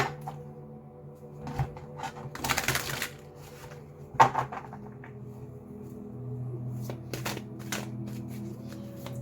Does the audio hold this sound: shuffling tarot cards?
yes